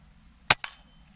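A Hatsan Jet 2 .22 air pistol fires a single sharp, loud shot close by, followed a moment later by a fainter secondary crack or thud, with quiet between.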